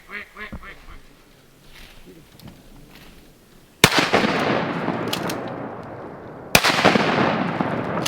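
Two loud shotgun blasts during a Mississippi wood duck hunt at Hollis Farms, each a sharp crack with a long decaying rumble, fired a few seconds apart after quieter ambient sound and faint voices.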